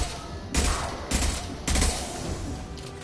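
Three heavy bursts of gunfire from the Mass Effect 2 video game boom in quick succession, each a thick, bass-heavy blast followed by a short decay, with no voices present.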